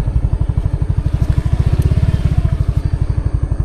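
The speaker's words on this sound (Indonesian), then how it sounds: "Ini motor petaninya lagi ngambilin." A farmer's motorcycle engine idles nearby with a loud, steady, rapid put-put rhythm throughout, no voices over it.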